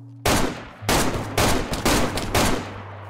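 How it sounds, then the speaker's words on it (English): Gunfire in the DayZ video game, four loud sustained bursts of rapid shots separated by short gaps, close and dominant with no talk. "Why is everyone shooting at me?"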